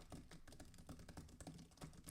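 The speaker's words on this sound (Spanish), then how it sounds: "vamos a ver de paso cómo rechaza el ruido mientras estamos escribiendo en un teclado" Quiet, rapid keystrokes on a computer keyboard tap out a steady irregular clatter, faint and close, with no voice over it.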